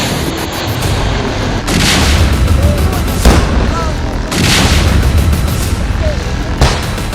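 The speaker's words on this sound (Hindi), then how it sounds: "जबरदस्त विस्फोट इस समय यहाँ पे हो रहा है।" Loud booming blasts from an army encounter in Anantnag erupt several times in succession, heavy and broadband, over a rumbling background, with a voice faintly audible among them.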